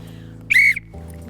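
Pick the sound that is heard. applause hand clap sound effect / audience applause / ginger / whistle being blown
whistle being blown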